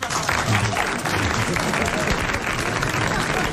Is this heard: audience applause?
yes